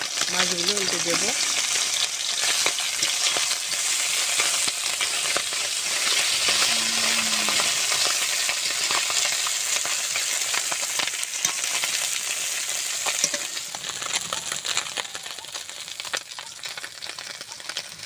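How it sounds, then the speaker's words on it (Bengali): Flipped puti fish keep frying in mustard oil in a wok, giving a steady close crackling sizzle throughout, with occasional scraping and a few brief tonal sounds. "মাছগুলো উল্টে দেবো।"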